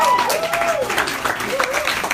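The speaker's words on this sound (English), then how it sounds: "Let's get a round of applause for everyone who went off tonight" An improv comedy audience claps for the night's performers, dense applause under a speaking voice with cheers rising and falling across the brief stretch.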